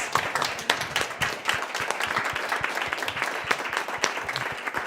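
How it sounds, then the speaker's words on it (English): Audience applause for candidates at a cultural candidate forum in Seattle: a moderately sized crowd clapping steadily, individual claps distinct within the sustained roar, holding for the whole clip. "Let's give our candidates a round of applause"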